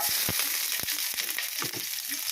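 Onion dropped into hot cooking oil, a loud continuous close sizzle and crackle with a few soft knocks from the pan, and no talking.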